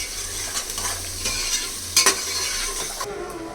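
Tomatoes dropped into a very hot pan for egg biryani, giving a continuous hiss and sizzle with stirring scrapes, a louder burst of crackling near the middle, close, with no talking.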